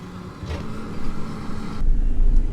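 A tractor hauls a trailer load of sugar beet across a field, a steady low engine rumble that grows heavier and louder toward the end, with no voices.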